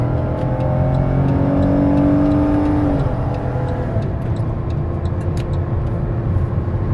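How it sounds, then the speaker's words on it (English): A 2017 Dodge Caravan SE wheelchair-accessible minivan drives at highway speed while its engine accelerates, the pitch rising and then dropping sharply at a transmission shift, with steady loud road and wind noise throughout. "so you can hear the engine run, feel the transmission shift"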